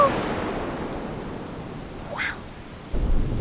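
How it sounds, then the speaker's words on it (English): A thunderstorm brings steady rain hissing on surfaces, with a low rumble of thunder swelling near the end; the whole scene is moderately quiet and holds no voices. "thunderstorm as well?"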